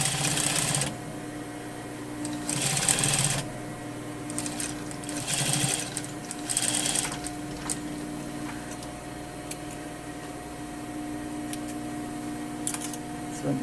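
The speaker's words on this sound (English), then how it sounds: "So I'm sewing my flap." A sewing machine stitches a pocket flap for a double welt pocket, running in several short, close bursts of rapid mechanical whirring separated by pauses and a steady low hum.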